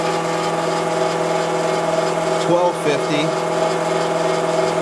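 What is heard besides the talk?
oil pump running on a test rig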